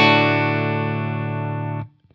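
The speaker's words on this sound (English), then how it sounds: "So here's the way the amp sounds in full power mode." Electric guitar through a Suhr Bella amplifier in full power mode: one sustained, ringing chord that decays slowly for nearly two seconds before being cut off, with a faint muted scrape after.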